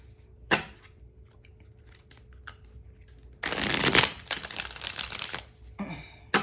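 Tarot cards being shuffled by hand, sparse soft taps and flicks followed by a loud, close riffling burst of shuffling lasting a couple of seconds, then a brief final riffle.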